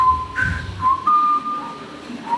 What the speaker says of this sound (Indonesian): Kalau tidak pura-pura siul.